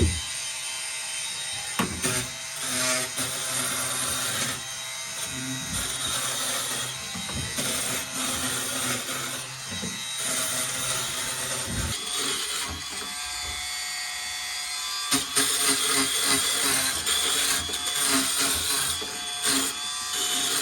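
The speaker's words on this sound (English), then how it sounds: "I just got all of that foam material off of there with the oscillating saw." Multi-speed oscillating saw stripping foam from a boat hull, a dense buzzing rasp that runs steadily for about twenty seconds, with brief dips and changes in pitch as the blade works the material, alone with no speech.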